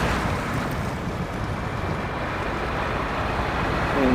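A wheel loader in SnowRunner churns through mud and deep water, producing a steady, broadband rushing and sloshing wash with a low engine rumble underneath, unbroken for the whole stretch.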